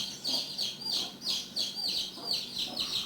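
A newly hatched chick peeps in a string of high, sharp, evenly spaced chirps, about two a second, close and clear over a quiet background.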